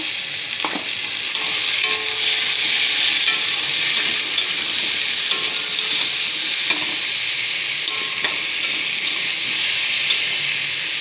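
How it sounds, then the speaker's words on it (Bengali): Vegetables being stirred in a pan over a steady, loud sizzle of frying, with papaya, green banana and potato pieces turned by a spatula in several scraping strokes throughout. "হালকা করে দেখো এখানে আনাজগুলো আমি পেঁপে, কাঁচকলা, আলুগুলোকে নেড়ে নেবো।"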